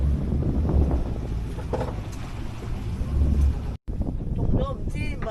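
Strong north wind buffeting a fishing boat at sea off Hong Kong, a steady low rumbling roar against the microphone with a brief dropout near the end, while people talk underneath.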